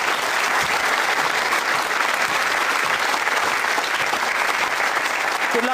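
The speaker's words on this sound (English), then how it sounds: "Give him a round of applause." A studio audience at a talk show breaks into steady, loud applause, a dense wash of clapping that holds evenly from start to finish.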